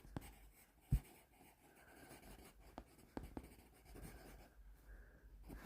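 Marker or chalk writing on a board during an anatomy lesson on the eye: soft scratchy strokes and light taps, with one firmer knock, faint and close in a quiet room.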